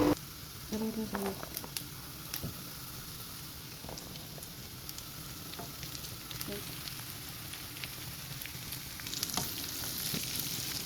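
Onion and chili frying in a pan, a steady close sizzle that runs the whole time, with a few brief scrapes and knocks of stirring.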